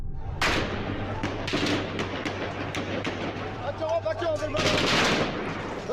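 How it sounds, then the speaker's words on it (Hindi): Heavy gunfire crackles during unrest in Pakistan, with repeated sharp shots and rapid bursts over several seconds, fairly loud against crowd noise, with a voice heard briefly. "और अब शदीद फायरिंग अंदर से की जा रही है।"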